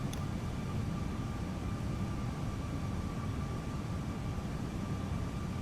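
An Airbus A320 taking off in Microsoft Flight Simulator on Xbox, departing Phoenix, heard as a steady, faint, low engine roar with a broadband rushing hiss that holds constant throughout, no voices present.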